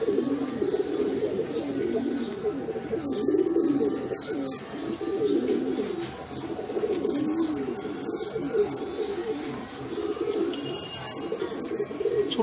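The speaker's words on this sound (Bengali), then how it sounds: "সেখানে এই পায়রাটা ম্যাচ খেলবে।" A female Madrasi racing pigeon coos in soft, continuous low rolling phrases that run through the whole stretch, with faint chirps from other birds in the background and no talk.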